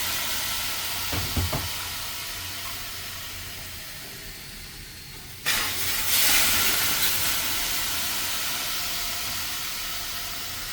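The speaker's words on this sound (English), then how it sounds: "you can pour the water over the rocks like" Water is splashed onto hot rocks in a hotel steam sauna; faint clatter comes first, then a sudden loud hiss of steam bursts out and slowly fades over several seconds.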